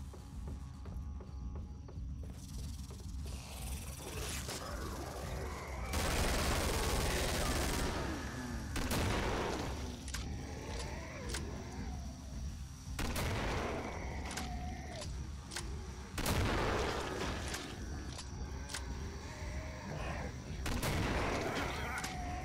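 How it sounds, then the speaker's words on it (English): Rapid gunfire and explosive bursts from a grenade launcher in the video game Killing Floor, with loud repeated blasts every few seconds over constant game ambience and scattered footsteps. "it just basically seems to be a regular grenade launcher"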